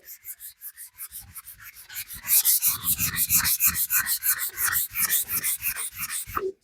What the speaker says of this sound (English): Let off pressure on your sandpaper, kind of real light, really get that blend in there.